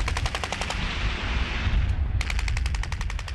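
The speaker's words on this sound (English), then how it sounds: "Gunmen open fire on Pertal King from two directions." Bursts of automatic gunfire from enemy weapons in Afghanistan rattle in rapid strings, pause briefly, then resume, heard from a distance over a steady low rumble.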